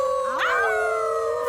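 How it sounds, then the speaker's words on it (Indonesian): A cartoon dog howls into a megaphone toward a rock, one loud, sustained howl that rises then holds a long, even pitch. "Saatnya melolong"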